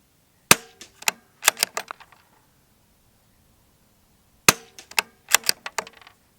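The trigger of a CZ 457 Synthetic rimfire rifle is dry fired, giving crisp, sharp mechanical clicks in two quick clusters separated by a few seconds of silence.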